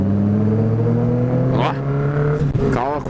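A car engine revs at night on a street, a loud, steady droning hum whose pitch climbs and falls in two surges toward the end, with voices nearby.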